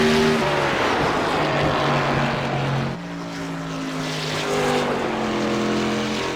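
A race car in iRacing sweeps past a trackside camera, its engine note loud and droning, then dropping in pitch as it passes and fades into the distance.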